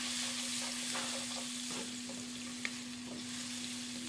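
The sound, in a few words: sautéing onion and garlic in margarine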